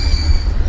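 A loud, sustained high-pitched squeal of train brakes with worn brake pads over a heavy low rumble of railcars, steady throughout.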